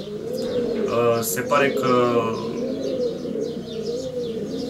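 A racing pigeon coos in soft, rolling throaty bursts close by, while someone speaks Romanian briefly over it.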